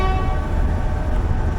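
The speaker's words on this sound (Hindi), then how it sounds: "डिपार्चर विसल हो गया" Train horn at Rawalpindi station sounding a departure whistle, a steady sustained tone held loud and close for the whole moment, with rumbling station and locomotive noise underneath and no talking.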